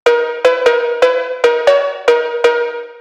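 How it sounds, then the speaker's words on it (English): A bright, dry Roland 808 drum machine cowbell struck eight times in a syncopated phonk rhythm, each hit sharp with a short metallic ring, loud and alone. "this is like just an 808 cowbell"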